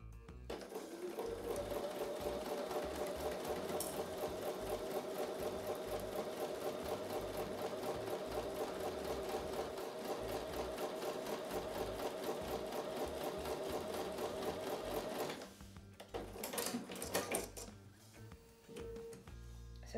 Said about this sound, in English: I'm going to take that back over to the sewing machine and sew with a 1/4 inch seam.